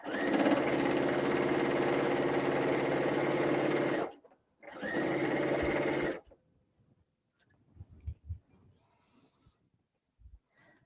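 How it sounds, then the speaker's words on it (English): A sewing machine stitches a tea cozy seam in two loud continuous bursts separated by a short pause, followed by quieter handling clicks and rustling. "You could also be more accurate sewing your 1/2-inch seam, but let's just put a needle down"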